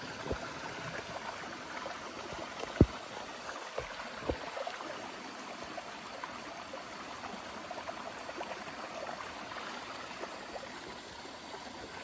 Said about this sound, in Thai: เราเนี่ยจะได้เสียงน้ำไหลออกมาตลอดเวลาเลยนะครับ